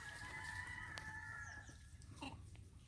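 A gamefowl rooster crows faintly at a distance in a yard of caged birds, a single drawn-out call over low background rumble, followed by a few soft clucks.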